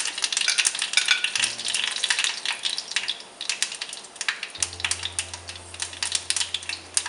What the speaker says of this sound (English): So once that starts fluttering, I'm going to add in the red chilies